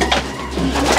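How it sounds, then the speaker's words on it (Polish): Breeding pigeons in a loft coo softly and steadily for a moment, a low continuous murmur of bird calls with faint background noise. "Tu są gołębie rozpłodowe."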